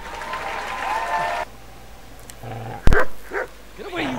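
In Kingdom Come: Deliverance, a dog fights amid game ambience, with a few sharp barks and yelps near the end over a steady background bed.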